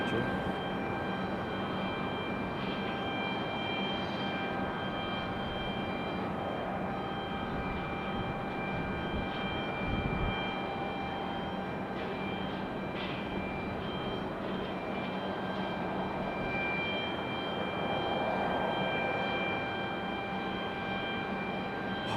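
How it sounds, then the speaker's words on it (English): A Delta CRJ regional jet taxis toward departure at Raleigh-Durham International Airport, its steady engine whine and broadband rumble holding even and continuous at a moderate distance, with no talk over it. "That Delta CRJ making its way around for departure."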